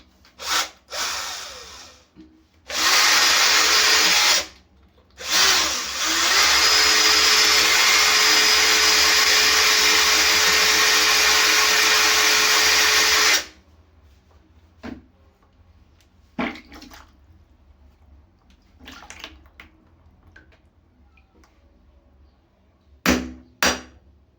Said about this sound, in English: How about the drill?